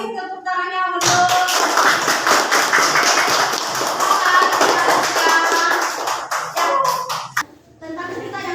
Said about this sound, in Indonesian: Kasih tepuk tangannya untuk